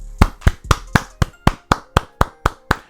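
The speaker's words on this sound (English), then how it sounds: "Round of applause, man. Round of applause." A single pair of hands claps in a steady, even rhythm, about a dozen sharp claps close up with nothing else behind them.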